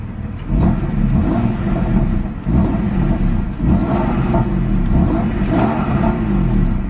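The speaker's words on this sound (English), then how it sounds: "I'll rev it, flaps closed and flaps open." BMW M4 engine revving with its exhaust flaps closed, a steady deep rumble rising and falling through a few short blips, close up and loud with no talk.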